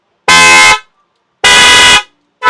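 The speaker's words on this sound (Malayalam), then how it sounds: "ഇത് നോക്കി, നല്ല കോപ്പർ ഹോണാണ്." A copper car horn blares loudly nearby in two sharp, bright blasts of roughly half a second each, separated by silence, with the start of a third at the end.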